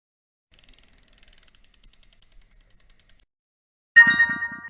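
Dice rolled for a board game make a quick run of light clicks that slow down and thin out over a few seconds. After a short pause, a bright chiming ding sounds on its own, with no voices.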